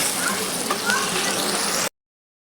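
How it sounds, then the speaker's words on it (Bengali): Spice paste sizzles steadily in a hot pan while being sautéed for a taki fish and bottle gourd curry, a close, even crackling hiss that stops abruptly, with a voice talking over it. "মশলাটাকে ভালোভাবে কষিয়ে নেব"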